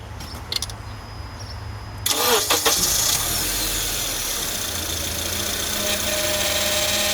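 Acura TSX engine starting: after a short quiet stretch with a few clicks, a starter cranks briefly and the engine catches, settling into a steady, close idle that runs to the end.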